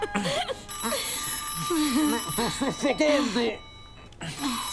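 A telephone rings in repeated electronic trills, loud and close, running beneath people speaking in Italian throughout.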